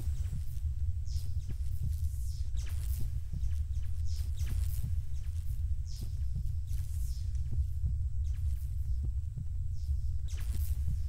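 A steady heartbeat in a dark, quiet stretch of a Roblox game, with regular low thumps repeating about once a second over a constant low rumble, and no talk.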